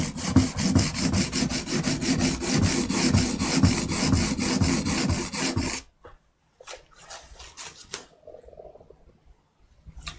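A printmaking tool is drawn across a sharpening stone in quick, steady rasping strokes. The rhythmic scraping stops partway through, leaving a few faint scrapes and quiet handling sounds.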